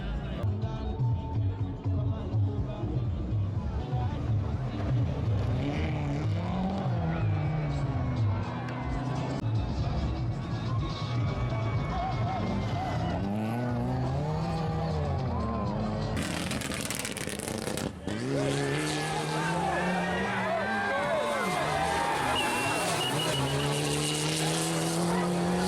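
A Mitsubishi Lancer Evo 9 rally car tears along a stage of the Kyabazinga Rally, its engine roaring and revving hard with tyre noise, running steadily beneath a continuous narrating voice.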